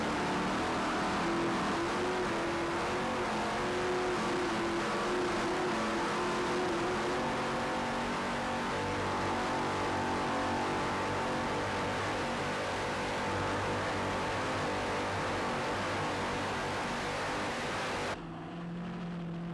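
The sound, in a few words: Skater racing powerboat engines, Mercury Racing, onboard cameras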